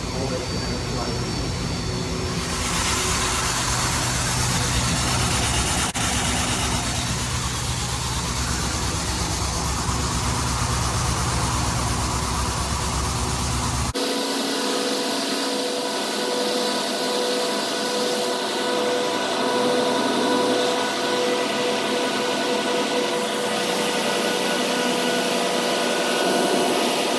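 A DM1100DC deburring machine drum runs over heavy steel plate, giving a loud, steady broadband roar throughout that shifts partway to a harsher, more grinding texture, with no pause.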